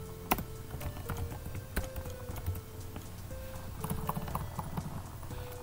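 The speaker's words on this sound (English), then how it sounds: "let's actually type out the word second" Someone types a word on a computer keyboard, producing a quick series of close, light key clicks and taps with small pauses between bursts, at a low level.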